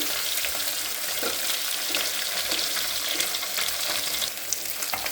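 Fish fry in a pan with a dense, steady hiss of hot oil, continuous and fairly close, with small crackles and spits scattered throughout.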